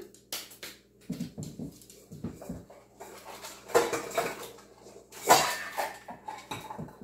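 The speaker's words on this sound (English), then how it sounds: "this certainly is a lot easier to mix if you have a little bit larger bowl that you can mix it in" Granola being mixed in a bowl, with irregular close clatters, scrapes and rustling taps of a utensil against the dish in uneven bursts.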